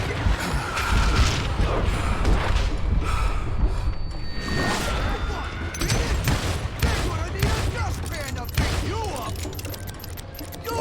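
Gunfire in the Western shooter Call of Juarez: Gunslinger, with repeated shots and clattering mechanical sounds packed into a dense, loud stretch of game audio. Speech comes and goes on top.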